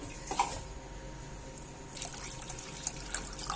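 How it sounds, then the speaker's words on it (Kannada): Water splashes and trickles into a container, with a faint steady stream that grows busier and louder in the second half. "ಇನ್ನೊಂದು ಸ್ವಲ್ಪ ನೀರು ಹಾಕ್ಲಕತ್ತೀನಿ ನಾನಿಲ್ಲಿ"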